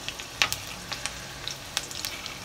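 Mustard seeds and dal crackle in hot oil for poha, with scattered sharp pops and spits over a faint steady sizzle, close and fairly quiet.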